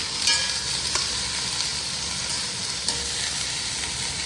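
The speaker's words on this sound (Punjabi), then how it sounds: "ਜਦੋਂ ਮੈਂ ਐਵੇਂ ਪਾਉਣੀ ਆ ਨਾ ਜਦੋਂ ਸੜ ਸੜ ਕਰਦਾ ਮੈਨੂੰ ਬੜਾ ਮਜ਼ਾ ਆਉਂਦਾ" Ingredients for a vegetable biryani hitting a hot pan, giving a continuous bright sizzle with a few sharper crackles and stirring scrapes, close and fairly loud, with no talking.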